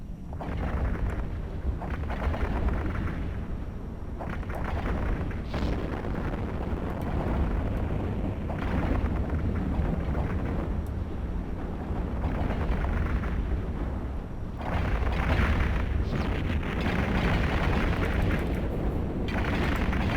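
A ship blown apart in the space game EVE Online, a sustained heavy rumbling roar of explosions lasting throughout, loud and dense with deep booming swells and no pauses.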